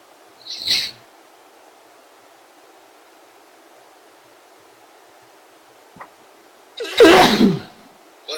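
A short sneeze near the start, then a louder, fuller sneeze a few seconds later, with a faint tick and quiet room hiss between them.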